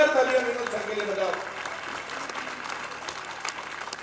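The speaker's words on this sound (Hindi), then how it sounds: "एक बार जोरदार तालियां इन बच्चों के लिए" Loud applause from an audience for students who landed government jobs at a coaching branch, a dense burst of clapping that starts strong and tapers slightly, with a speaker's voice over the first part.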